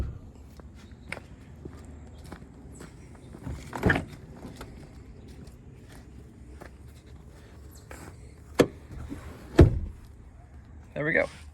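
Rear seats in a 2021 Ford F-150 cab are pushed up, giving a few clunks and thumps with one loud latch knock near the end, spread across quiet interior ambience.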